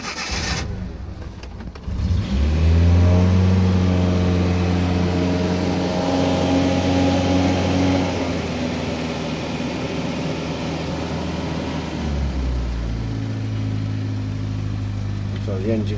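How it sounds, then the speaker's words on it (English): An old Bedford vehicle engine cranks on choke, catches and settles into a rumbling idle, revving briefly midway before dropping back, with a voice talking over it. "Start the engine so you can hear what it sounds like."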